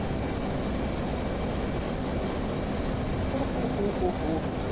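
Aircraft engine roaring steadily during takeoff, a broad, fairly loud rumble that holds constant without breaks.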